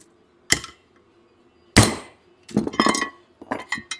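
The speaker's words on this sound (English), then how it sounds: "we gotta whoop it on with a hammer" Hard metallic hammer blows drive a press-fit pickup tube onto an LT1 oil pump, ringing out one at a time, then in a quicker cluster, close and sharp with quiet gaps between strikes.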